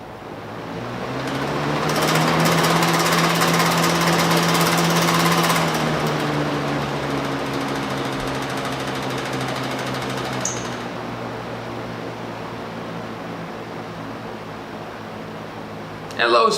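Electric fan with dirty, uncleaned blades running with a steady whirring hum and a rough buzzing wobble. The noise swells louder in the first seconds, then settles to a constant drone with no talking.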